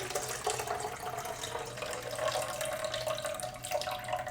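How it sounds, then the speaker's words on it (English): Juicer running while juicing celery and cucumber, a steady whirring hum under a wet, splashing, liquid-like wash that continues at moderate level without talk. "now we're going to go ahead and we're going to juice this up"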